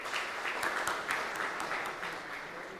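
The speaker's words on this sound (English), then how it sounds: "Can we have a big round of applause for them?" Steady applause from an audience at a business members' event, a continuous broad patter of many hands clapping at moderate loudness, without talk over it.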